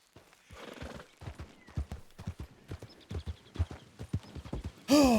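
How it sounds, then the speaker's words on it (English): Steady clip-clop of a wild horse's hooves at a walking pace in a video game, ending in a loud, sudden neigh. "It's a wild horse, though."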